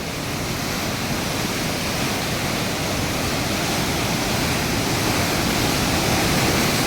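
A huge waterfall near Mount Ruapehu roars as a dense, constant rush of falling water, loud and close, unbroken and with no voices over it.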